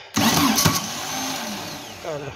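A Volkswagen Beetle fitted with a Type 4 engine fires up for its first start with carburetors freshly filled, a loud broadband burst of starter cranking and catching, then a steady close idle that briefly shifts near the end.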